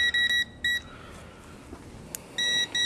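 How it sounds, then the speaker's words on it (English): A handheld voltage tester held to a live electrical receptacle emits sharp, loud electronic beeps in short pulsed bursts, a cluster at the start and another at the end, with a quiet gap between and no talk. "a voltage tester. So it will let you know if anything's hot."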